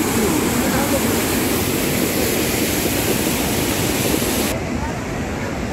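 Dhuadhar waterfall on the Narmada river near Jabalpur, Madhya Pradesh: a steady, loud, broadband roar of falling water that fills the scene without a break.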